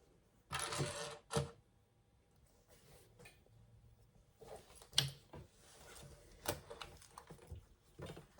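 A sewing machine stitches the bottom seams of a fabric zip pouch in short, faint bursts of rapid clattering needle strokes, separated by quiet pauses and a few sharp clicks.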